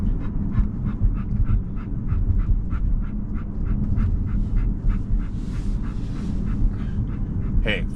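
A dog pants rapidly and steadily up close, each quick breath evenly spaced, under faint background rumble.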